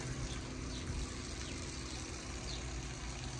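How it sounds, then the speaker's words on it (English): Water rinsing a DesertAir remote condenser unit for an indoor pool room, a steady broad rushing spray heard close and continuous, with no talking. "And then we'll give this remote condenser a very, very good rinse."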